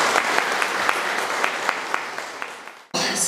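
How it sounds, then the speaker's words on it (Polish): Dense applause from a conference audience rolls on for almost three seconds, then stops abruptly and a voice starts speaking. "wielkie brawa"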